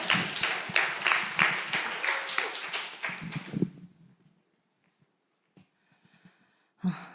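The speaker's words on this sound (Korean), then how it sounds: "우리 박수 한번 주실까요?" Applause from a youth group audience at a church winter retreat, a burst of dense clapping for several seconds that fades out, followed by a few scattered taps and a short final clap.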